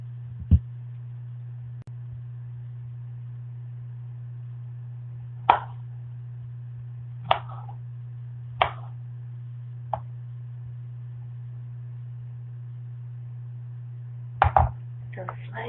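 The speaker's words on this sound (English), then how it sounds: "Slice some strawberries. Take the greens off, right? So slice some strawberries." A knife cuts through strawberries onto a board in a few sharp, isolated taps spaced seconds apart, over a steady low electrical hum.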